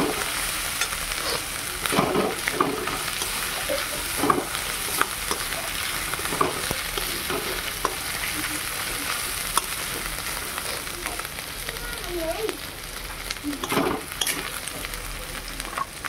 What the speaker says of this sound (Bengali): ভালো করে কষিয়ে নিই।